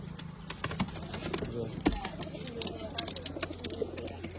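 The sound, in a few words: pigeons cooing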